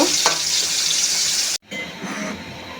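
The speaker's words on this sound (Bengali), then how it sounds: "মাছগুলো ভেজে নেব।" Koi fish frying in hot mustard oil, a dense, loud crackling sizzle that cuts out abruptly midway and then resumes at a lower, steadier level, with no speech.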